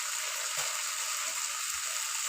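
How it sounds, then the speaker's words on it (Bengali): A steady, loud, close sizzle of hilsa fish frying in hot oil tempered with black cumin, a continuous hiss throughout with a couple of soft low bumps and no talking. "এবার ইলিশ মাছ দিয়ে দিচ্ছি।"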